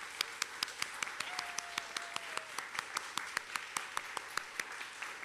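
A church congregation applauds Pride volunteers at a Sunday service with distinct, fairly sparse claps at an even rhythm, faint and roomy, heard from a distance.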